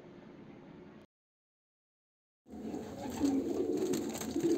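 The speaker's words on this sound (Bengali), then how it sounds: "খুব সুন্দর পায়রা" Pigeons coo softly at the start, then after a short silence the cooing returns louder and busier, several birds murmuring close together against faint background hiss.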